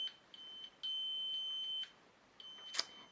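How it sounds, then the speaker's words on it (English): A series of electronic beeps from a device: a few short bleeps, then one long sustained tone, another short beep, and a brief click at the end. "and make these beeps"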